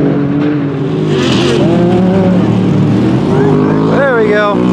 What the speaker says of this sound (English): It's like this Can-Am's ripping behind him.